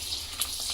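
Puri frying in hot oil gives a short, steady, close crackling sizzle with no pauses.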